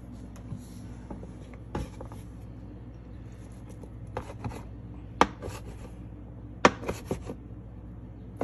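A knife cutting pasta on a board, with scattered light taps and sharper chops over a quiet background, irregular and close, with no talking.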